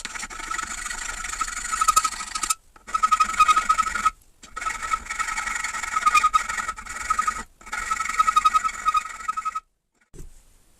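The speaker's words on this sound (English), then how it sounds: "I'm going to spend some time filing this" A hand file works welded metal on a chainsaw part during a repair, making rough rasping strokes in several bursts of a second or two each, separated by brief pauses, loud and close with no talking.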